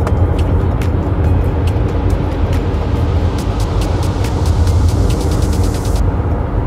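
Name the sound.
Toyota hybrid car driving on motorway, braking lightly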